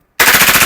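Rapid full-auto burst from a G-series airsoft pistol fitted with a grip extender, starting abruptly after a brief silence and continuing as an even, loud string of closely spaced shots with no talking.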